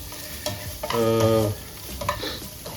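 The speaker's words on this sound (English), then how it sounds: "I'm just sauteing it" Pasta tossed with vegetables in a hot pan, a close, steady sizzle broken by a few scraping stirs of a utensil against the pan, with no voices.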